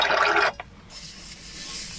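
Water poured into a container inside a car converted into a camper, a short bright splashing gush that stops abruptly, followed by quiet cabin rustling.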